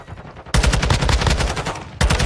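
Bursts of close, loud automatic gunfire from Call of Duty Modern Warfare 2 ranked play, a sustained volley of rapid shots followed by a brief pause and another burst.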